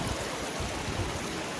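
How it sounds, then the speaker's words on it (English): A small waterfall beside the Grand Canyon track in the Blue Mountains gives a steady, close rush of falling water. The splashing wash holds evenly throughout, with no voices. "A bit of waterfall there."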